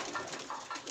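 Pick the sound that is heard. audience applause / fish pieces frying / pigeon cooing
pigeon cooing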